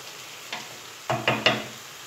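Spaghetti with tuna being stirred together in a pan after the heat is switched off, giving a few soft scraping and clinking strokes, close and fairly quiet, with a couple of slightly louder stirs near the end.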